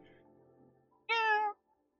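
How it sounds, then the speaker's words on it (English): A single short cat meow closes a PlayStation 5 game trailer, a clear, bright, close mew lasting about half a second after a faint murmur of background sound. "this adorable cat meow right at the end"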